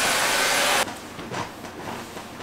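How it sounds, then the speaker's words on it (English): A vacuum cleaner runs indoors in a small New York City studio apartment, a loud steady whine for under a second before it drops to a quieter, muffled hum with some shifting. "And he's gonna vacuum."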